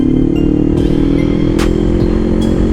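Kawasaki Ninja 500 SE motorcycle cruising at speed on an expressway in sixth gear, a loud steady engine drone with constant wind rush and a few brief clattering bumps, no talking.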